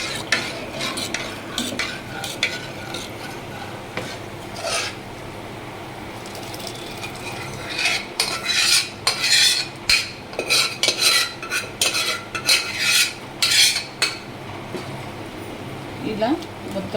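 Sambar masala and ground dal being stirred in a pot, with a spoon scraping and clinking repeatedly against the metal in bursts that grow busier toward the end, over a faint background hum.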